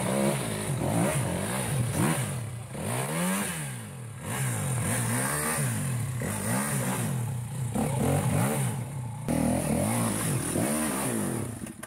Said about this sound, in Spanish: Andrés, no me rayes la moto.